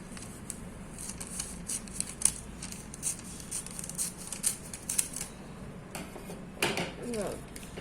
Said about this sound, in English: Now I cut it out with the scissors.